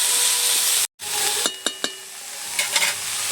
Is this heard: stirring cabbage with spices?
yes